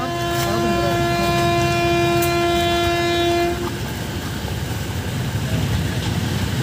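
A train blasts a long, loud, steady horn for several seconds, then the horn cuts off and the heavy rumble of the passing rail cars rolls on close by.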